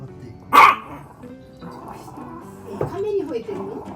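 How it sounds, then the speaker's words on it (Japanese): A toy poodle gives one loud, sharp bark at a turtle, followed by quieter yips and whimpers, while people talk throughout. "亀に吠えてるの？"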